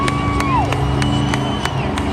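Monster Jam fans in St. Louis cheer the Grave Digger monster truck, a dense roar of crowd noise with whoops and whistles rising above it and a few sharp claps.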